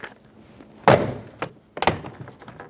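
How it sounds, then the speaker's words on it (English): Plastic trim clips popping out of a Chevrolet Sonic rear door panel, two sharp thunks with smaller clicks and rattles between them, close and loud. "Pull straight out, pop the clips out."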